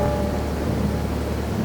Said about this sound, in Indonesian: Hujan lebat turun dan gemuruh petir pun terdengar.